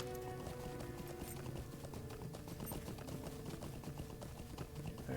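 Horse hooves clip-clop steadily in the fantasy game Lord of the Rings Online, a continuous rhythmic trot over layered game music and ambience, with no talking.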